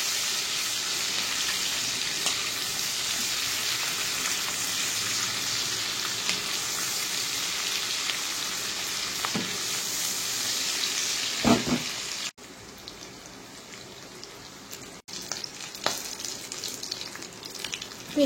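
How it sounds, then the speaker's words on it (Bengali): Masala paste for chicken frying in oil until it turns reddish, a soft continuous sizzle up close with occasional stirring knocks, quieter and broken toward the end. "পেস্ট একটু লাল লাল করে ভেজে নিতে হবে।"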